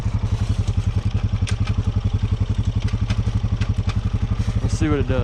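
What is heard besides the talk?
Can-Am 650 ATV engine revving in second gear for a wheelie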